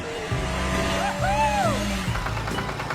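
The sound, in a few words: cartoon toy car speeding off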